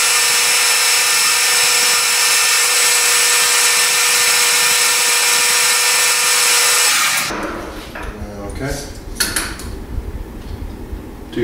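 A machine in a metal shop cuts off a metal tube, making a loud, steady, grinding whine for about seven seconds before it stops and gives way to softer clattering and rattling.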